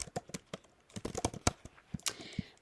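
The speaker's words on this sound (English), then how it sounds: "I can type some text in here" Quick, uneven keystrokes tapped on a computer keyboard while text is entered into a document text box, close and fairly quiet, with no talking.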